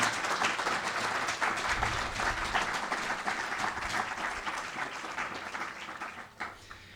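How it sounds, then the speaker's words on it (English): Audience applause at a grand opening, a dense sustained wash of clapping from many hands that holds steady and then tapers off near the end. "I think we should provide a round of applause to them, loud enough so they can hear it over on the job site"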